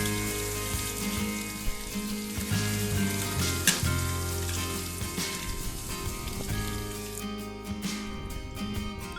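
Soaked ash gourd pieces for Agra petha being rinsed in water, with steady splashing and trickling close by that runs on continuously with no talk.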